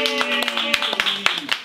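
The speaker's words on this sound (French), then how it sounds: "Et si vous êtes d'accord, applaudissez pour vous." Audience clapping at a bar event, a brisk scatter of claps from a small crowd with distinct sharp hits over a steady tonal hum and some voices in the background.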